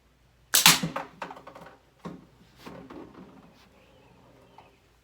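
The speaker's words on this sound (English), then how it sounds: "Hear the ammo rolling?" Slingshot ammo striking and rolling inside a homemade catch box, a sharp initial crack followed by a cluster of rattling clicks and rolling patter that fades out over a few seconds.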